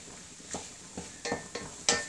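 Chicken, ham and mushrooms cooking down in a pan, with a soft sizzle and about five clinking stirs of a utensil against the pan at uneven intervals, close by.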